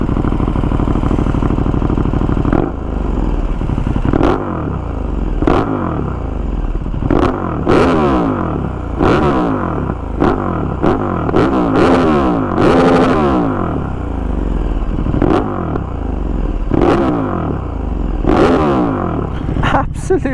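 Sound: KTM 1290 Super Duke R with Austin Racing exhaust revving

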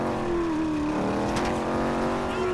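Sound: car engine revving in video game GTA 5

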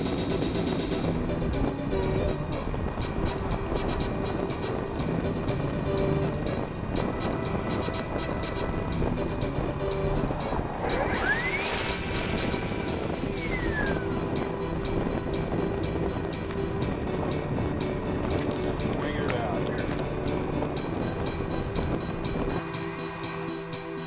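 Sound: remote-control MQ-9 Reaper model drone plane flying

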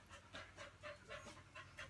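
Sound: dog panting in the room

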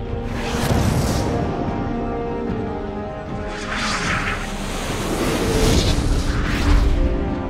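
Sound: warning gunfire in a film trailer

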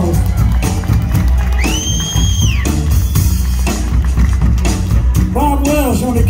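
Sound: concert crowd applauding and cheering

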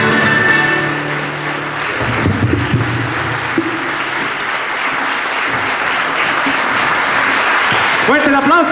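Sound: applause for a folk music group

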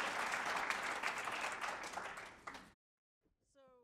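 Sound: audience applause

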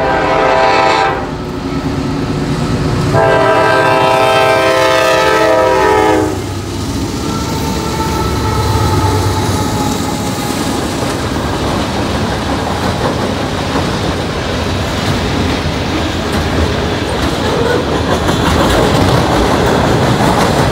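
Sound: second train passing a railroad crossing, horn blowing

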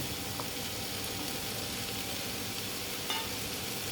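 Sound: paneer added to sizzling pan for matar paneer

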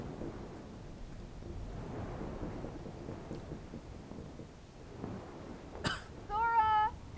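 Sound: thunderstorm in Kingdom Hearts Final Mix video game

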